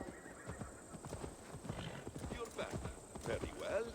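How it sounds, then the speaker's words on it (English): Horse hooves clip-clopping and a whinny from a horse in the video game Assassin's Creed Valhalla, steady hoof rhythm with a neigh near the end, under game dialogue and music. "He's on a horse now."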